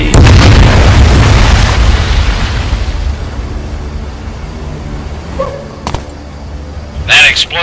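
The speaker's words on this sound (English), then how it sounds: "That explosion got the attention of all the German patrols in the area." A heavy explosion in a World War II video game opens with a loud, deep boom that rumbles and slowly fades, followed by a few scattered sharp noises near the end.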